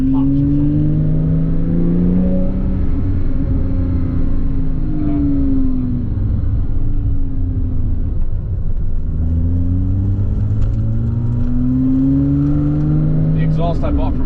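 Porsche Cayman S 987.1 fitted with a Milltek Sport exhaust revs repeatedly, engine pitch rising and falling in long sweeps, loud and close with a rumbling undertone and a few faint pops, a voice talking at points.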